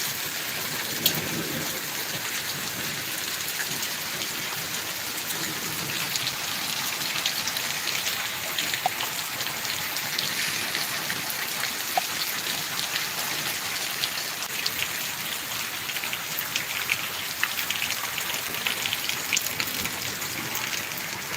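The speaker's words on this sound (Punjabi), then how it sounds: "ਗੜੇ ਮਾਰੀ ਹੋ ਰਹੀ ਹੈ ਬਈ" Hail and rain fall together on farmland with wheat crops, a loud, continuous roar of rain with scattered sharper impacts throughout and no talking.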